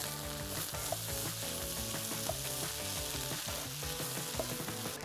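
Turkey fried rice with peanuts stir-fries in a hot pan, giving a loud, continuous sizzle broken by soft, regular scrapes and tosses of the spatula, with no voices.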